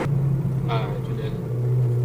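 Inside a Ferrari entering a tunnel, a low steady engine rumble hums and resonates off the walls, with a brief muffled voice mid-clip.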